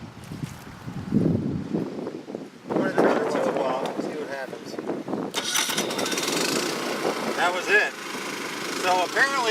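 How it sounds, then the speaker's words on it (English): A Champion 3400-watt inverter generator running on propane starts up after a few tries and settles into a steady, close running drone, with someone talking over it throughout. "Alright, so it started right up when I turned the choke off."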